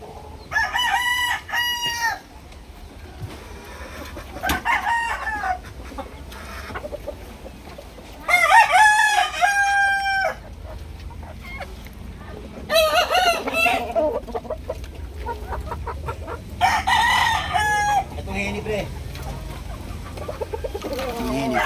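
A two-year-old golden sweater gamecock, a fighting rooster, crows loudly and close in several separate bursts, with clucking and soft farmyard noise between the calls.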